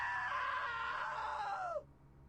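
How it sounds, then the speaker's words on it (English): A long, loud scream rings out in the video game What Remains of Edith Finch, holding steady before sliding down in pitch and cutting off sharply, with no talking over it. "Now that was a great scream."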